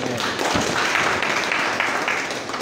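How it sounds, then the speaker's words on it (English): A party event crowd at a political gathering gives a round of applause, dense clapping that stays fairly even across the moment with a few sharper individual claps standing out. "a round of applause"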